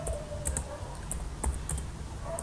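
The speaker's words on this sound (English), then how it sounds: "So I'll type" Typing on a computer keyboard: quick, irregular clicks of keys close by at a moderate level over a low steady hum, with no talking.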